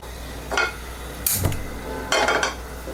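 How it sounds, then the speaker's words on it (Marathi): Whole spices (black peppercorns, cloves, black cardamom and bay leaf) dry-roasted in a pan: three separate clattering scrapes of spices and a utensil against the metal, over a quiet background hum. "हे मी कोरडंच भाजून घेते सगळे हे जे खडे मसाले तुम्हाला सांगितलेलं ते आधी आपण भाजून घेऊया"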